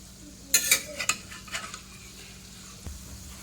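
Gulab jamun being turned over in hot oil: a few close clinks and scrapes of a utensil against the pan over a low, steady sizzle, then quiet frying.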